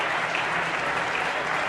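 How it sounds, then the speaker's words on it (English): Audience applause at a gala celebrating people returning home from prison, a steady, dense wash of clapping from a crowd filling the room without pause. "y'all can give me some claps now"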